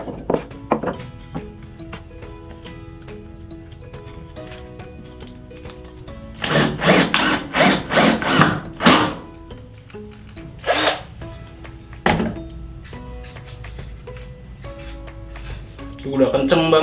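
Xenon CDID1845 18V cordless drill in screw-driving mode, giving a few short bursts of whirring near the mic with pauses and a later brief burst, amid light handling clatter and background talk.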